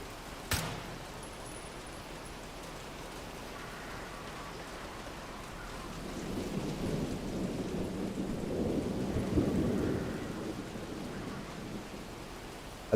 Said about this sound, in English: In this game, the thunder sounds like real, actual, you know, normal European thunder.